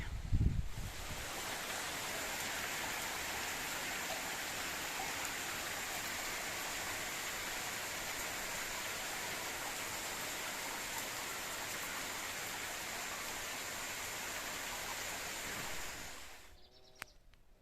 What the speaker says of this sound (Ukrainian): Ну, дай Бог, може пройде дощик. Ось такий.